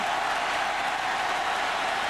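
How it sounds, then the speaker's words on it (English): A packed stadium crowd at a college football game between Tennessee and LSU, a broad continuous roar filling the space at steady loudness with no single voice standing out. "the crowd will come to life right now on 4th and 1"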